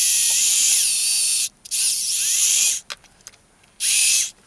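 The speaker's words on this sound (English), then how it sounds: "So I've got a 2mm drill bit in my drill. Let's just drill a small hole." A power drill fitted with a 2mm bit bores a small hole in plastic: three short high-pitched whirring bursts separated by brief pauses, close up.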